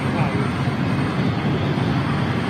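A departing airliner climbs steeply out of Zurich Airport, its engines a loud, continuous broadband roar that stays steady throughout the short span.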